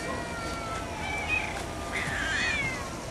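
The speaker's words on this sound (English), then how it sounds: "Oh, that's a nasty cat." A cat in a fight hisses and yowls in drawn-out, wavering cries over a hissy, noisy background, faint and somewhat distant, with no talking.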